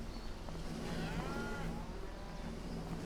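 Cows mooing inside a cowshed in Farming Simulator 25, a few soft, drawn-out lows that sound fairly distant over a steady low hum, with no talking.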